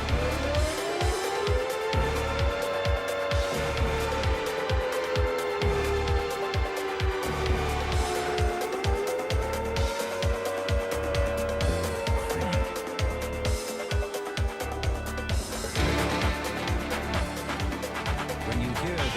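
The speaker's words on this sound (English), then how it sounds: "The air attack warning sounds like" An air attack warning siren wails in slow rising and falling swells, sustained and prominent over a low rhythmic rumble for nearly twenty seconds.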